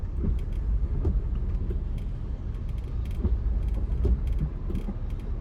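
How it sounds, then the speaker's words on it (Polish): A car rolls very slowly through flood water on a street in Koh Samui, a steady low engine rumble with faint sloshing and rattling, close and continuous with no talking. "powolutku sobie przez tą wodę jadę"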